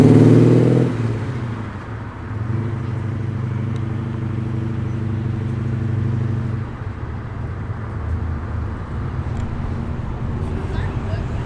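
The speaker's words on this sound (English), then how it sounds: "There's another HSV rolling in." An HSV muscle car drives out of a large car meet, its engine note a loud, low, steady harmonic rumble after a brief louder burst at the start, fading slightly toward the end amid background crowd noise.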